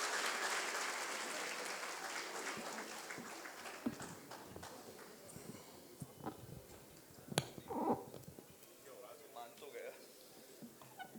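Applause rises from the audience at a Lucknow kavi sammelan and mushaira as the poet is welcomed, fairly faint and fading over several seconds, with scattered claps and voices continuing underneath.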